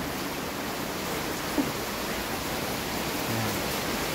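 Heavy typhoon rain pours down in a steady, dense roar with no break, close and even throughout.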